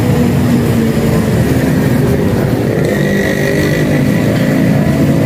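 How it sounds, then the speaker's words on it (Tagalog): A 2021 Kawasaki CT 150 motorcycle with a timing chain engine runs steadily up close, a continuous loud mechanical drone with no speech over it. "Yan ang makina pala nito mga kapatid ay timing chain engine na"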